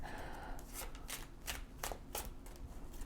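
Tarot cards are shuffled in quick, repeated riffling bursts, close but quiet, with no one speaking.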